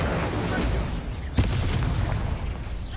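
A fiery Incendio spell blast in Hogwarts Legacy on PS5 erupts as a sharp, loud burst midway through a dense, continuous roar of magical combat noise.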